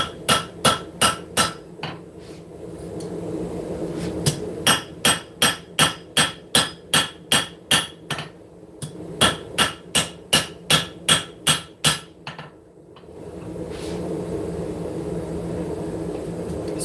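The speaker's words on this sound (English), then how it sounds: "you can see the hammer blows on it" Heavy hammer blows forging hot metal at a forge, struck in fast rhythmic bursts of sharp, ringing impacts with short pauses between runs, over a steady background roar.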